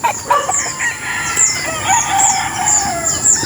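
Many tethered stag roosters crow and cluck on a wide chicken farm, with several overlapping crows near and farther off throughout.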